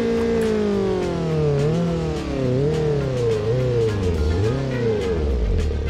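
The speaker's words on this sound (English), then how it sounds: "It was revving by itself." A car engine in a video game revs by itself, droning loudly and continuously while the pitch rises and falls in repeated swells, with no talk over it.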